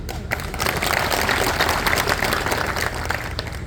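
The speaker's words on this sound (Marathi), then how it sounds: "आता ज्यांनी टाळ्या वाजवल्या" Audience at a Marathi election campaign rally applauding, a dense, steady wash of many hands clapping together, loud and continuous throughout with no break.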